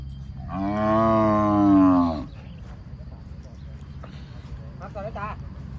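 A water buffalo at a livestock market lets out one loud, drawn-out bellow lasting about two seconds. Quieter market chatter and voices follow in the background.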